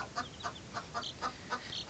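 Young chicks huddled beneath a brooding hen with supplemental heating peep in a quick series of about seven high, bright chirps, evenly spaced and close.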